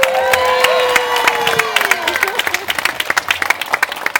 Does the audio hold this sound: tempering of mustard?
no